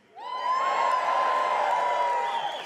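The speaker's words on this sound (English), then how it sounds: "give me a cheer if you like the new flag they submitted" A comedy gala crowd in New Zealand whoops and cheers loudly in a sustained roar that swells quickly and holds steady with high shouts and whistles standing out.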